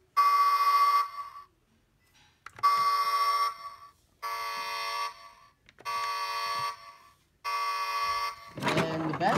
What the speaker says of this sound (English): it also makes a horn sound, like a beep.